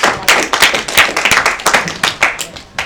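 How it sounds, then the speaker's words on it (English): Applause and clapping from the audience at a poetry slam after a score is announced, a steady burst of many hands, loud and close, with some voices mixed in. "Another round of applause."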